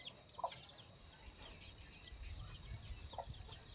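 Chicks on a farm give two faint, short peeps a few seconds apart. The peeps sit over a quiet outdoor background, with no speech.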